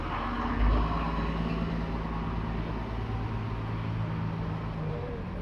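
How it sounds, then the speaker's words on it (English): An Austin J4 van's engine running in second gear while driving around a field, a steady low rumble with a brief louder swell early on, continuous and close throughout. "I'm driving the Austin J4 van around a field. We are in second gear."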